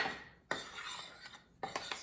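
A utensil stirs dry ingredients for kefir bread dough in a bowl, making sharp clinks and scraping strokes at close range in a quiet room.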